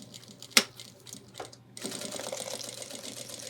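A sewing machine begins a backpack seam with a locking stitch: a sharp click and a few scattered taps, then a continuous, close whirring run of stitching.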